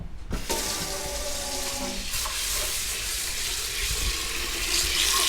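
Cheap Calrose rice is washed under running tap water for sushi rice, a steady loud hiss of water filling a bowl in a sink with faint stirring, close and without talk.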